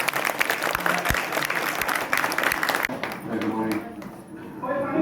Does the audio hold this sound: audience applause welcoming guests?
yes